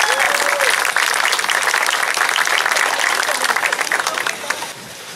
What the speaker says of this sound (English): Please give them a round of applause there